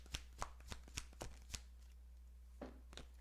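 Cards are shuffled and drawn from a deck in a quiet room: a run of crisp, close riffling snaps in quick succession, a pause, then two more card flicks, with no talking.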